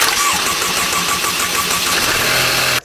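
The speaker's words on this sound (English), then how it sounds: "It has an extended crank, so it takes forever to start" A 2015 Mercedes C300 with an extended-crank fault, its starter churning the engine in a long, loud, even rhythm for nearly three seconds before cutting off abruptly.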